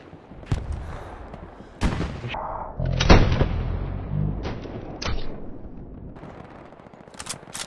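Gunfire in the World War II shooter Hell Let Loose, on the streets of Carentan: sharp single shots and heavy booms go off at irregular intervals, some close and loud, others distant, over a low rumbling battlefield.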